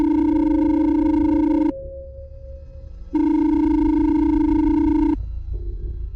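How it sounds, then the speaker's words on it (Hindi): Phone ringing effect in a horror story: two long electronic ring bursts, each lasting under two seconds, loud and steady with a clear pitch and separated by a short, quieter gap, with no speech. "पॉकेट में रखा उसका फोन दोबारा बजा"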